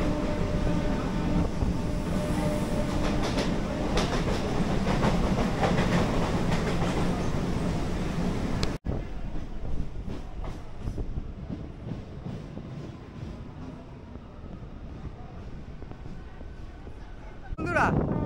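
A local train on the Kolkata to Digha line rolls along at good speed, a continuous loud rumble with rattling wagon noise and clickety-clack, dropping to a quieter interior roar partway through, with faint voices in the carriage.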